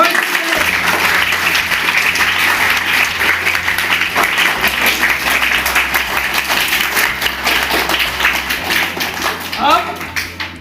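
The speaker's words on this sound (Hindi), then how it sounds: "तो जोरदार तालियां मोहित जी के लिए।" Loud, sustained applause fills a staff farewell ceremony, dense clapping from a gathered crowd, with low steady background music humming underneath and the clapping thinning slightly near the end.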